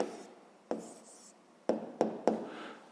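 A pen on paper writes down a math answer in a fifth-grade exercise, a few short sharp scratches and taps spaced irregularly over a quiet background, close and fairly crisp.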